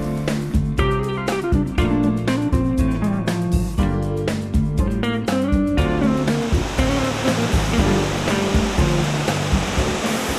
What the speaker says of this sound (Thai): หลายๆตาไหลมารวมกันนะครับก็กลายมาเป็นน้ำตก แม่กำปอง